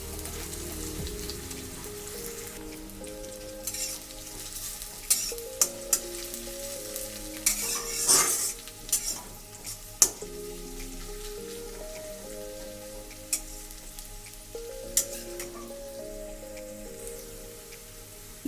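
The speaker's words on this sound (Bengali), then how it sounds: "পেঁয়াজটাকে ভালো করে একটু কিছুক্ষণ ফ্রাই করে নেব" Onions frying in oil for a Bengali fish-oil curry (machher tel) make a continuous sizzle with sporadic sharp crackles and spatters, while soft tonal music plays underneath.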